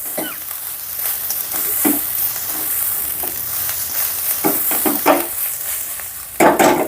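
Cumin rice with garlic being tossed quickly in a hot pan, giving a low sizzle broken by repeated short scraping and shuffling bursts as the grains are flipped, with a sharper clatter near the end.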